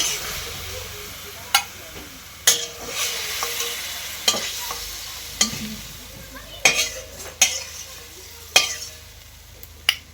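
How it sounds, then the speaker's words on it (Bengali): Leafy greens stir-fried in a kadai as the last of a little water cooks off: sharp metal spatula scrapes every second or so over a soft, steady sizzle. "শাক ভাজাটাও আমার হয়ে গেল"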